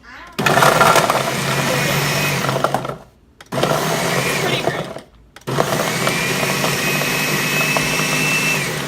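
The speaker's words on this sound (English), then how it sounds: "I really failed at stuffing this blender, but that's okay" Blender pulsing cauliflower into rice, a loud steady whir in three bursts separated by short pauses, with a brief spoken remark over it.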